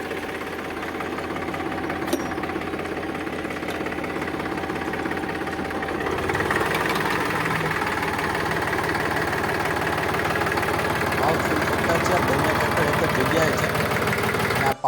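A Powertrac tractor engine idles steadily at a used tractor sale in Amreli, Gujarat, a continuous low rumble that grows slightly louder partway through, with a voice talking over it.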